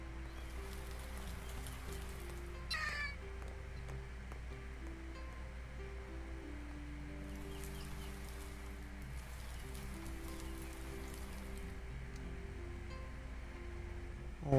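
Soft, steady rain falling in the video game Rain On Your Parade, a continuous hiss of drops over quiet background music.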